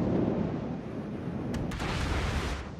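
Heavy gunfire rumbles continuously in a video game battle, a dense, booming barrage of rounds with a few sharper cracks near the end, loud and sustained with no talking.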